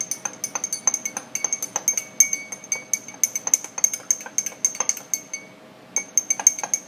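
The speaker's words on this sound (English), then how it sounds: "now we're just going to stir, mix the two together, the coffee, the brewed coffee, and" A spoon stirring brewed coffee and condensed milk in a glass, with rapid bright clinks against the glass in an uneven rhythm, close and clear, pausing briefly before resuming.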